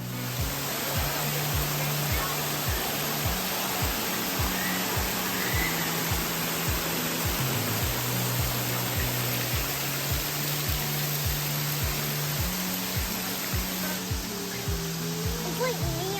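A waterfall in Great Smoky Mountains National Park roars as a constant, broad rushing wash of water, steady and loud throughout, with a low rhythmic hum running underneath.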